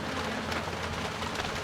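Rain falls on freshly applied cement plaster on a wall under construction, producing a steady, even hiss of drops with no clear breaks.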